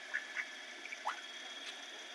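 Several ducks quack in short scattered calls over a steady background hum, fairly faint and a little distant.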